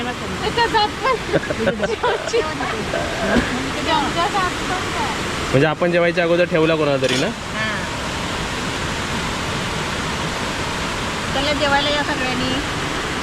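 A waterfall gives a steady broadband roar beneath a light drizzle, with a lunch gathering nearby. People chat and laugh over the constant rush of water.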